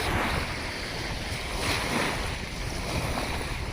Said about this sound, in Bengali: এই মুহূর্তে জোয়ারের জল কিনারা পর্যন্ত ভরাট হয়ে আছে